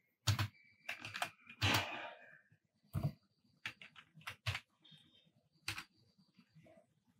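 Keys clatter on a computer keyboard while text is typed into an Excel sheet, coming in uneven bursts of quick clicks separated by short pauses, close and fairly quiet in an otherwise silent room.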